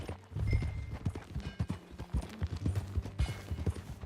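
Horse hooves clip-clop in a steady trotting rhythm in Red Dead Redemption 2, fairly close, with faint background ambience and no talking.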